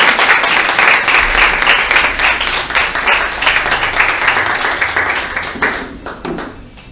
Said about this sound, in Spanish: regala un aplauso al Señor en esta mañana.